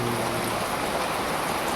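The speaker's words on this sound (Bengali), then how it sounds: "বৃষ্টি দেখো" A steady, dense hiss of rain falls continuously and loudly, with no voices over it.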